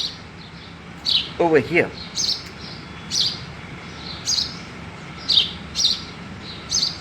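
Small birds chirp in a garden with short, sharp, high tweets repeating at irregular intervals, moderately close over a soft background hum, while a person briefly speaks.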